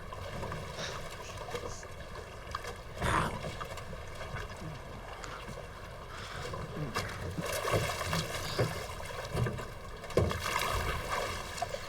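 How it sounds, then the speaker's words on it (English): A boat is paddled across a freshwater lake: soft splashes and dipping strokes sound close over a wash of water and wind, with occasional louder knocks. "that's why I'm paddling west"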